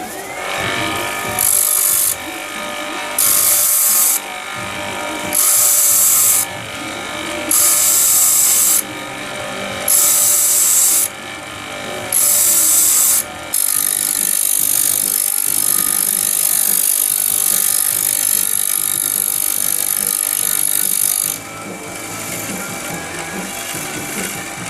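A tool grinder on a Laptronics machine sharpening a tungsten electrode for a TIG welder, loud steady high-pitched grinding hiss coming in repeated bursts of a second or two, then one long continuous pass, close and without speech.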